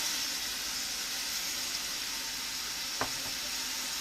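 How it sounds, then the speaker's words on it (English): Seasoned rabbit meat browns in a hot pan with a steady, even hiss of sizzling fat, close and unbroken apart from a single soft knock near the end. "So now that we just browned our meat"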